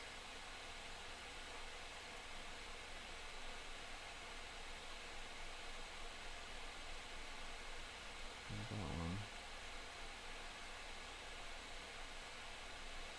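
Cooling fans on AMD XFX RX 480 graphics cards in an Ethereum mining rig roar as a steady, hissing, hairdryer-like whoosh throughout, with a brief low thump partway through.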